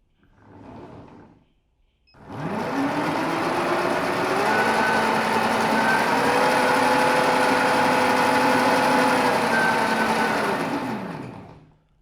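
A home-built electric go-kart motor, with its chain sprocket, revs up from rest to full throttle, a rising high-pitched electric whine with gear noise that holds steady for several seconds and then winds down, after a brief quieter burst at the start.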